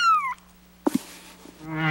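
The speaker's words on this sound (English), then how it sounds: "Kitten." A kitten gives short meows, one with a bright, high falling cry and another rising cry at the end, separated by a brief low double sound, close and clear.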